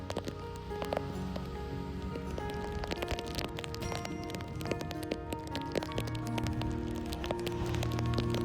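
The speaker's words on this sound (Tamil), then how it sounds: "சரியான மழைங்க." Heavy rain falls on a trek to Gorakhgad fort in India, pattering densely with close, sharp drop taps, as if striking a palm-leaf umbrella, continuous and fairly faint.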